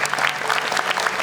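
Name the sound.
audience applause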